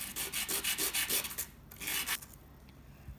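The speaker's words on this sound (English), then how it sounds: "I don't want to sand it too much." Sandpaper rubbing a thin handmade silver charm, a quick series of short rhythmic scrubbing strokes, close and fairly quiet, then a pause and a few more strokes.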